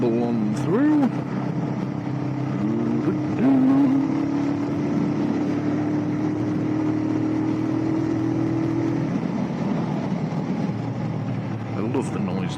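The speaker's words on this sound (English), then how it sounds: "I love the noise this bike makes" Lifan King 125 motorcycle engine burbling steadily at mid and low revs, a sustained droning note with a rising whine partway through, heard under wind and someone talking intermittently.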